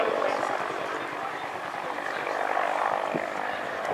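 A Bell UH-1 Huey helicopter flies at the Shuttleworth Fly Navy Airshow, its steady broadband rotor and engine roar filling the air continuously, with someone narrating over it.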